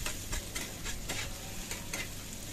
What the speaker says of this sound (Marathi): तर कांदा टाकते भाजायला अगोदर,